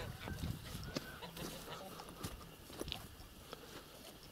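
Geese honk faintly at a distance in a rural yard while they follow a cat. The calls are scattered and intermittent, mixed with footsteps and low background noise.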